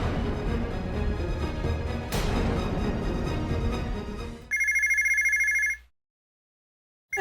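A telephone in a home rings loudly with a steady, trilling electronic ring after a burst of background noise. The ringing stops abruptly, leaving near silence.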